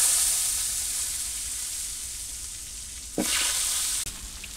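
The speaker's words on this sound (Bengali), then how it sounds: "আলুগুলো ভাজে নেব এই তেলেই, তো আলু দিয়ে দিই" Large chunks of potato for a katla fish curry fry in hot oil, making a steady close sizzle that fades slightly, then a sharp crackling burst partway through as more pieces drop in and are stirred.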